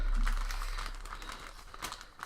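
Plastic bag crinkling while a Spitfire model kit is unboxed, a close run of irregular rustles and crackles of moderate loudness, with no talking.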